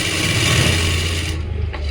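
A sewing machine stitching salwar fabric runs in a loud, fast, steady mechanical whir close by, then stops abruptly after about a second and a half.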